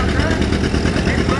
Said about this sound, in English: we'll switch over here to Nick Brace on his John Deere R. And he's getting it, it's popping